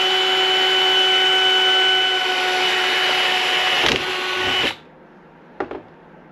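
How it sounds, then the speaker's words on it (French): Handheld power drill with a 3.2 mm bit boring a hole into a metal reinforcement bracket for a Solex moped, a steady high whining buzz for several seconds, then it stops abruptly, followed by a couple of short clicks. "perceuse, forette 3-2, on se met bien au centre et on perce"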